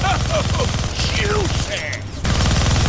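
A minigun fires in the Deadpool video game, rapid loud rattling bursts layered with game sounds and a voice speaking over the shooting.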